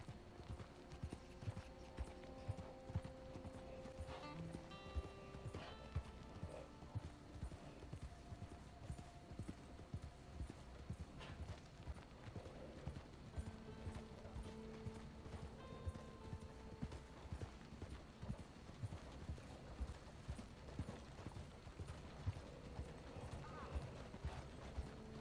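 Horse hooves clip-clopping in Red Dead Redemption 2, a steady rhythmic trot at moderate distance, with occasional tonal game sounds and mechanical clicks mixed in.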